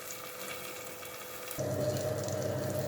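Water pours steadily into a simmering pot of Kongu-style tomato curry, starting abruptly partway through and continuing as a loud, rushing gush over a background hiss.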